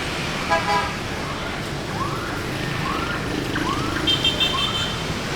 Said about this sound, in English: Traffic noise is going to be loud.